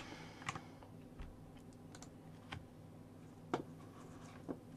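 A computer keyboard clicks as someone types, with a handful of sharp, scattered keystrokes over a quiet, faint background.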